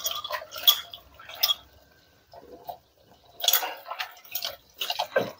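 Wild vegetables being washed with water: irregular bursts of splashing and dripping from handling the leaves in a vessel, close by, with brief quiet gaps between them.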